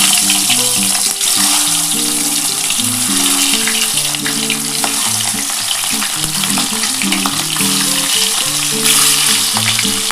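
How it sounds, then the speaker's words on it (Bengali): Eggs fry in hot oil for a cauliflower and potato curry, a steady, close, crackling sizzle that runs under background music. "এবার আমি হালকা করে ডিমগুলো ভেজে নিচ্ছি।"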